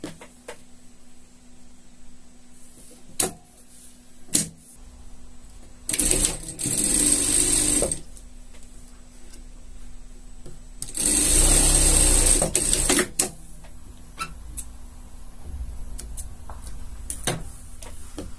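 Sewing machine stitching seams on a gaucho-style poncho outfit for a pet, two steady runs of rapid motor stitching lasting a couple of seconds each, close and moderately loud, with quiet handling clicks in between and no talk.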